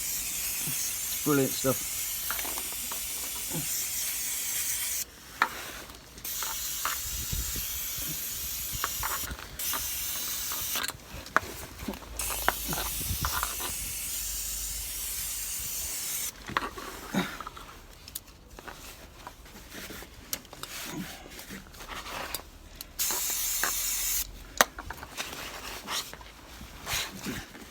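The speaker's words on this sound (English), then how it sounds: "And then we get the carb cleaner and blast." Carb cleaner sprayed onto Ford Mondeo engine parts during an oil change, heard as several loud hissing bursts of a few seconds each amid clanks of work, with someone talking between them.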